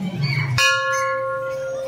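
A single metal bell is struck once and rings out with a long, clear, sustained tone that slowly fades.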